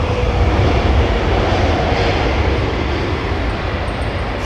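An airliner lands in a crosswind at London Heathrow Airport, a loud, broad engine roar that fades slightly toward the end.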